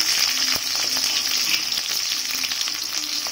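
Onions frying in hot oil in a home kitchen pan, a steady dense sizzle throughout with a few faint stirring knocks, close and fairly loud, no talking.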